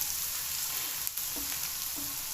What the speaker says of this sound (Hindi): हमारे मसाले की अच्छी तरह भुनाई हो गई है इसकी। प्याज लहसुन अदरक